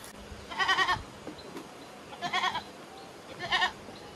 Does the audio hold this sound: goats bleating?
yes